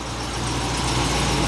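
A Ram pickup truck engine idles steadily to warm the oil, a constant low rumble without changes in pace, close and fairly loud.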